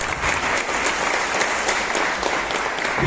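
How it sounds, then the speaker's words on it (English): An audience at a Teachers Day celebration at IIT Kanpur claps to welcome the chief guest, a boxing coach, with dense, even applause held steady throughout. "Everyone applause."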